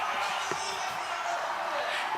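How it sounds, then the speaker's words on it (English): Crowd at a men's bouldering final in Prague cheering and clapping, a dense, steady roar of applause and shouts filling the space while a commentator talks over it. "Crowd going crazy for that one."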